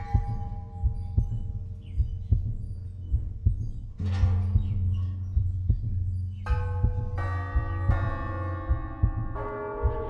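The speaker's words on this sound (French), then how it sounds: "Les cloches sonnent." Church bells toll in a French radio play of Macbeth, first a low droning hum with faint strikes, then several bright overlapping bell tones ringing out and sustaining, growing fuller toward the end.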